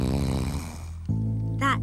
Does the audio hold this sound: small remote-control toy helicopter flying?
no